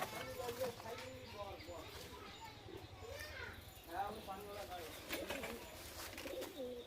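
Pigeons coo softly at a farm pen, a low steady murmur of several birds running throughout beneath nearby voices and children's chatter.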